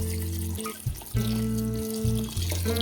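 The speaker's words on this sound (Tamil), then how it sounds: "இப்போ நம்ம இதில் வந்து தண்ணி சேர்த்துருவோம்" Water is poured into a pot of chickpeas being cooked for street-style channa chaat, a gurgling, rising stream that pauses briefly and resumes, close by and fairly loud with no talk.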